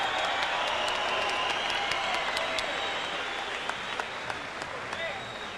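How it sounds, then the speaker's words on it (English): Boxing crowd applauding Carl "the Truth" Williams after his fight with Tommy Morrison, a steady dense wash of clapping and cheering from a large arena audience that holds throughout, with a commentator talking over it. "A round of applause, please, for this great performance tonight by Carl the Truth Williams."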